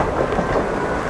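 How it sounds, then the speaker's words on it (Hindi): Heavy rain falls outside a moving train on the way to Doodhsagar waterfall, a dense, loud, steady roar mixed with the rumble of the carriage. "और बाहर बहुत बारिश हो रही है"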